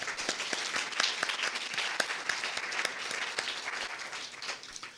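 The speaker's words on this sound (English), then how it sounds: "I want to give both of them a round of applause and thanks for their wisdom" An audience at an infant mental health endorsement kickoff event gives a round of applause, a moderate crowd whose individual claps stand out sharply within the steady patter before it thins toward the end.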